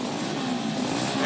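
A pit bike engine revs at an ice race, a continuous buzzing roar that holds steady and loud throughout.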